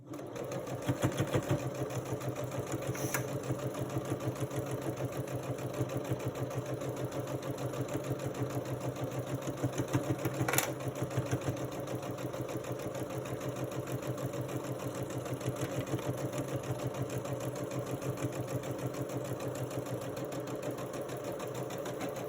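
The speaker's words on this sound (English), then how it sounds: "And we will sew this one." A sewing machine runs steadily while stitching a quilt piece, its fast even mechanical hum and rhythmic needle clatter continuing close and unbroken throughout, with a couple of brief clicks.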